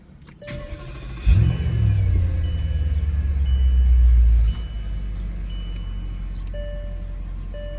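A salvaged Bentley GT's engine cranks and fires up with a loud roar, rumbles and revs for a few seconds, then settles into a steady idle.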